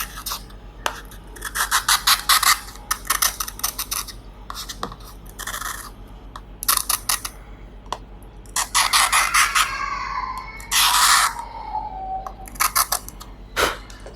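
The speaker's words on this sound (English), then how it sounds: "Now we can scratch it and you can get some heavy scratches." A Xiaomi Mi A2 smartphone being scratched during a durability test: repeated harsh rasping scrapes in short bursts against a steady low hum, close and fairly loud, with no talking.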